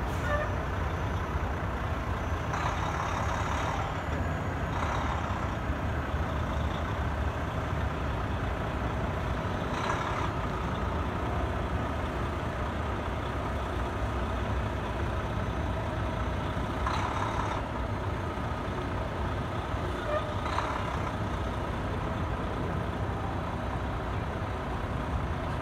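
A semi truck idles and creeps back toward a trailer to be hooked, its diesel drone rumbling steadily and close. Several short, sharp bursts of air hiss through it, and no one speaks.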